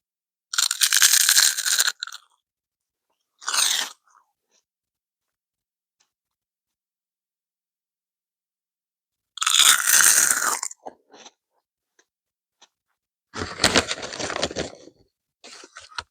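Seaweed chips are crunched and chewed close to the mic in separate loud bursts, with quiet pauses and small clicks between bites.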